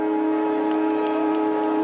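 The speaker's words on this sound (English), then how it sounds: "Siren goes for half-time." Half-time siren at an Australian Football League match in 1996, Adelaide Crows versus Geelong, a steady loud electric drone held at one pitch through the whole stretch, with faint crowd noise beneath it.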